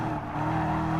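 Group 4 race cars at Tsukuba circuit in Gran Turismo Sport: a steady, loud, close engine drone with sustained tonal whine and a hint of tire noise, no voices.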